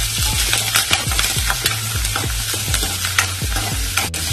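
Green chilies stir-fry in a pan with garlic for a traditional Maharashtrian leafy vegetable dish, a busy steady sizzle broken by rapid close scraping and clinking strokes of the spatula, with no voices.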